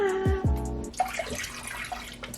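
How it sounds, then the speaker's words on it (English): Vegetable broth pours from a container into a cooking pot on a stovetop with a close, bubbling splash, after two glugging gulps from the container at the start. "I'm gonna use some vegetable broth. So we're gonna pour some of this into the pot."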